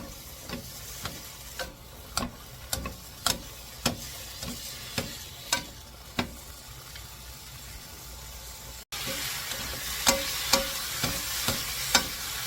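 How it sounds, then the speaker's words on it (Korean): Julienned potato and carrot stir-fry in a pan, crisp sizzling under a steady rhythm of spatula scrapes roughly every half second, briefly interrupted then resuming louder. "감자하고 당근 썰은 거 이렇게 이제 볶아주시면 돼요."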